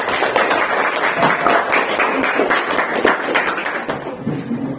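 Students in a classroom at the end of a teacher-training lesson give a round of applause, a moderately loud, steady patter of hand claps lasting several seconds.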